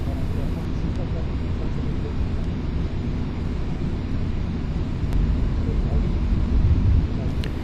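Steady airliner engine drone inside the Flight Simulator video game, cruising at 3000 feet before turning onto final approach, a continuous broadband hum at even loudness throughout.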